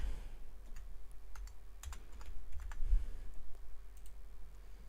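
Quiet, close computer keyboard typing in scattered clusters of light clicks with short pauses between, over a faint steady room hum and no talking.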